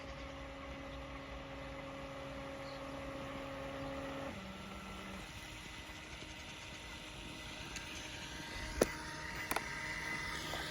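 A test boat's engine runs at steady idle, a low continuous hum with a slight shift midway and a couple of brief clicks near the end.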